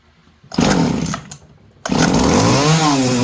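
A small engine, likely a chainsaw, with fuel poured straight into the carburetor sputters to life, dies briefly, then restarts and revs loudly and close with a rising, wavering drone.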